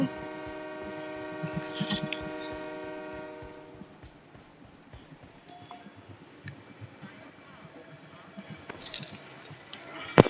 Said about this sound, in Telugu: ట్రైన్ వస్తాయి